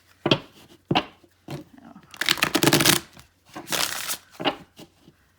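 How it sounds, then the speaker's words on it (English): Bursts of crisp riffling and slapping as a small deck of tarot cards is shuffled, several rounds with short pauses between, close and fairly loud. "I think these are a little harder to shuffle than the big ones were"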